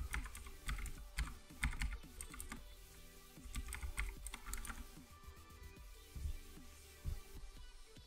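Steady typing on a computer keyboard, with rapid clustered keystrokes and brief pauses while entering a search term in the Fallout 4 Creation Kit, close and clear with no talking.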